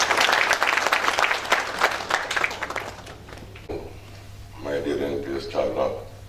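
Audience applause for a keynote speaker at a formal gathering, a loud burst of clapping that swells and then fades, followed by someone speaking into a microphone.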